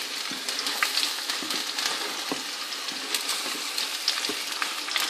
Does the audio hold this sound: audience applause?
no